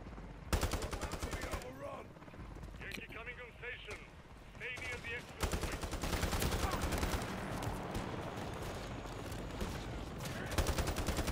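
Heavy automatic gunfire from the Modern Warfare III campaign's Highrise open combat mission, aimed at an enemy helicopter, rattles in long dense bursts with sharp cracks, mixed with combat noise and brief voices over the din.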